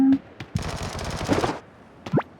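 Gunfire in the battle-royale game PUBG comes as a rapid burst of automatic shots lasting about a second, close and fairly loud, between a few sharp isolated clicks.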